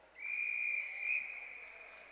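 A referee's whistle shrills once during a power hockey game, a single long steady blast of about two seconds that is bright and fairly close, with a quiet arena behind it.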